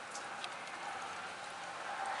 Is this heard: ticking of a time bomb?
no